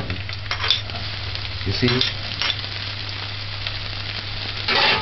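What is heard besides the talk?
sautéing scallion and onions in a pan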